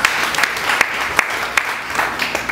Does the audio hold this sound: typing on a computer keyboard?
no